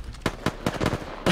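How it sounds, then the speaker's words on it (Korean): Gunfire in the video game Apex Legends: a rapid burst of sharp shots in quick succession, close and fairly loud, with no talk over it. "이제 냈으니까 올 거야, 이제. 총소리를 냈으니까."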